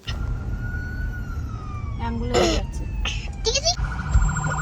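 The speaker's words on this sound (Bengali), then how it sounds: "অ্যাম্বুলেন্স যাচ্ছে মা" An ambulance siren wails through city traffic, its wavering tones rising and falling against a steady rumble of engines, with voices talking nearby.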